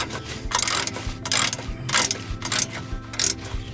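A 3/8 ratchet clicks in quick bursts while turning a bolt on a Ford F150 Triton during a starter harness swap. There are about six rhythmic rounds of close, crisp ratcheting, with no talk.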